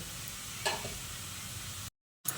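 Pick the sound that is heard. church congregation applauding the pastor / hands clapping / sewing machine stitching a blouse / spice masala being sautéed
spice masala being sautéed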